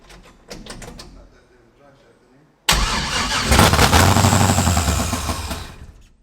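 A 1968 Pontiac Firebird cranks and fires up, with a few clicks and a brief starter whir, then the engine catches abruptly and revs into a loud, rumbling idle close by.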